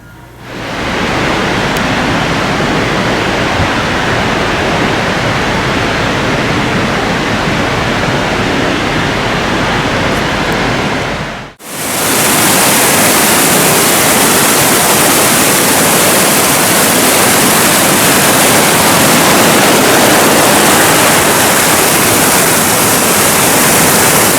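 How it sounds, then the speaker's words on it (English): Waterfalls at Yosemite National Park roar as a steady, loud, broadband rush of falling water, continuous throughout with a brief dip midway, and no talk. "Look at the waterfalls."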